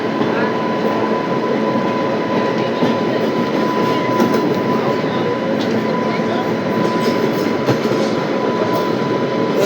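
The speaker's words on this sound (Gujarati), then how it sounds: "આપણું લોકોમોટિવ વળી ગયું છે રાજકોટવાળી લાઈન તરફ" A train locomotive runs on the Rajkot line near Jetalsar Junction in Gujarat, giving a loud, steady rumble with a faint clickety-clack of wheels and a sustained tonal whine throughout, without pause.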